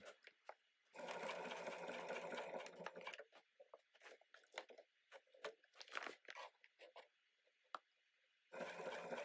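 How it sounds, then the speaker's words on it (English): A sewing machine stitches diagonally across upcycled seed sack fabric for a shopping bag, with close rapid bursts at the start and end and lighter clicks and rustling handling noises between them. "And then sew across the diagonal."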